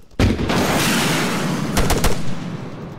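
An anti-tank launcher fires in the ArmA 3 military game, a sudden loud blast followed by a long rumbling roar and a few sharp cracks near the end, with no talking.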